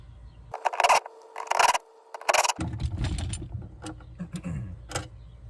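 A T27 Torx socket works small bolts on the trunk pull-down motor of a 1994 Cadillac Fleetwood, giving three short, loud bursts of whirring, ratcheting tool noise followed by scattered clicks and clatter of parts being handled.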